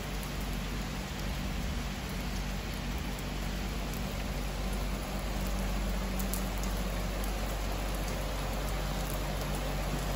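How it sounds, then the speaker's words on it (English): Light rain falling in Kuantan, Malaysia, a dense, even patter of drops on surfaces, steady and continuous throughout with no voices. "So to get a bit of rain, even when it's just light,"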